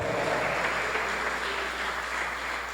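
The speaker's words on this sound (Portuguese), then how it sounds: "Aplauda mais o Senhor" A church congregation applauds during a sermon, a soft, continuous wash of many hands clapping at a distance with no pauses.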